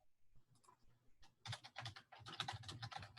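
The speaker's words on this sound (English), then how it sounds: "Everyone I hear typing." Rapid clicking of computer keyboards, several people typing at once in bursts, fairly close and clear, with no talking.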